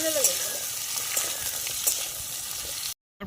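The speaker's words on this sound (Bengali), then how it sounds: "তারপরে এর মধ্যে দেওয়া হচ্ছে আলুটা ভাজা ভাজা হয়ে এসছে" Potatoes frying in oil in a wok, spiced with black cumin, dried chilli and bay leaf on a rooftop picnic, with a dense continuous sizzle and a few faint stir clicks before an abrupt cut to silence near the end.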